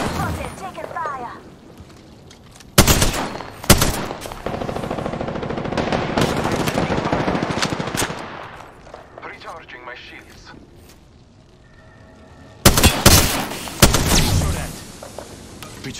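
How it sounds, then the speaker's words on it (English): Gunfire in the video game Apex Legends: loud bursts of automatic and heavy shots come in clusters between quieter stretches, with game voice lines spoken over the action. "I'm spotted, taking fire."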